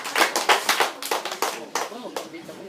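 Applause from a small group at a high school debate, distinct bursts of clapping pulsing in a loose rhythm and easing off toward the end.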